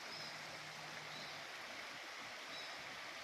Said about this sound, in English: I could just sit here for hours listening to the streams